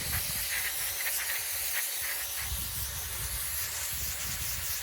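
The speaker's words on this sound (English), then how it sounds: "Spray this out some more." A continuous close hiss of aerosol cleaner sprayed into a push mower's plastic carburetor runs for several seconds with a brief dip partway through.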